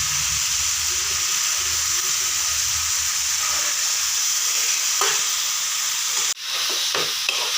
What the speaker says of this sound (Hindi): हम लोग बना रहे हैं, अच्छा फ्राई होने देंगे।